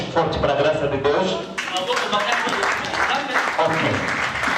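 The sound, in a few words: congregation applause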